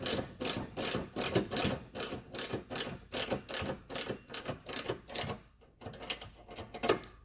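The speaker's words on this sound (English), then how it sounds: "And then you're going to tighten these up just enough to snug it up, but also where the pieces can still move." Rapid, rhythmic ratchet clicking close up as bolts are snugged on a chute system assembly, a fast run of strokes that pauses briefly near the end, then a few more clicks, no talking.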